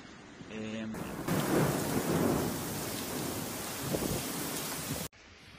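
Thunderstorm with heavy rain pouring steadily, a loud low rumble of thunder swelling near the start and holding under the dense hiss of downpour before cutting off abruptly.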